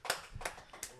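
A few scattered hand claps from a small group in a French television studio, brief and fairly soft, with a faint voice in the background.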